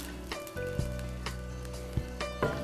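Cooked rice pressed flat in an oiled frying pan sizzles steadily into a crispy crust for cured-meat rice crackers, with a continuous hiss broken by a few sharp scrapes and taps.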